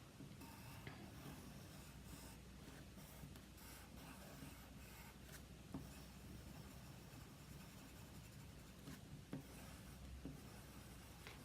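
Pencil or pen scratches steadily across white paper while a monster is sketched, a continuous soft scraping with small irregular strokes, close and quiet with no speech.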